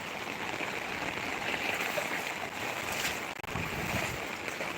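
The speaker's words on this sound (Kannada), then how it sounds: "ತಡ್ಕೊಳಕ್ಕಾಗೋದಿಲ್ಲ ನೋಡಿ ಅಷ್ಟು ನೀರು ಬರ್ತಾವಿಲ್ಲ" Rainwater rushes strongly down a sloping village lane during heavy rain, a steady, loud, broadband roar of flowing water that continues unbroken and with no voices.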